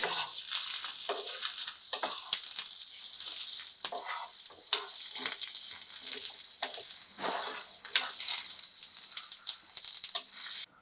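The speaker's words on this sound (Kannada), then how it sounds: "ಒಂದು 10 ಬ್ಯಾಡಗಿ ಮೆಣಸು, 2 ಗುಂಡು ಮೆಣಸು ಮತ್ತು ಇಷ್ಟು ಸಾಸಿವೆ, ಇದನ್ನೆಲ್ಲ ನಾವು ಈ ಪಾನಿಗೆನೆ ಹಾಕೊಳ್ತೇವೆ. ಇದನ್ನ ಚೆನ್ನಾಗಿ ಫ್ರೈ ಮಾಡ್ಕೊಳ್ಳಿ." Byadgi chillies, round chillies and mustard seeds fry in a pan with a loud, crackling sizzle and scattered sharp pops and spatters, continuous and close, before cutting off abruptly.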